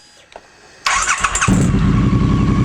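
A Triumph 900cc/1200cc water-cooled single-OHC motorcycle engine cranks, catches and settles into a loud close idle, a brief metallic timing-chain clatter showing right as it fires, with a few faint clicks before starting.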